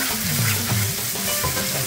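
Garlic and ginger sizzle in hot oil in a pan as the base for a lentil and chickpea curry, a steady crackling fry with some stirring, close and continuous.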